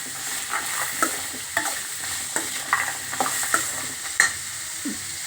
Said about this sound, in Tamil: பச்சை பட்டாணி நல்லா வதங்கிடுச்சு